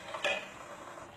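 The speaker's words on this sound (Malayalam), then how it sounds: "നമ്മുടെ ചോറ് നന്നായി തിളച്ചിട്ടുണ്ട്" A metal spoon clinks against a pot while boiling rice is stirred, one sharp close clatter followed by soft bubbling and faint scraping.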